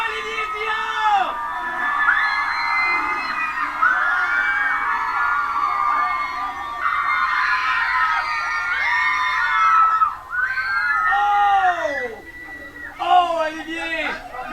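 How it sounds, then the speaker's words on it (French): A live show audience cheers and screams loudly for a performer, with shrill high-pitched shrieks and whoops forming a continuous roar that dips briefly before surging again. "Applaudissez et criez pour Olivier Dion!"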